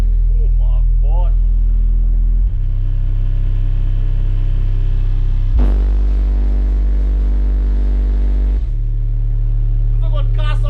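A car engine rumbles loudly indoors in a house, its deep, steady drone stepping up and down through several held rev levels, with people's voices faintly audible beneath it.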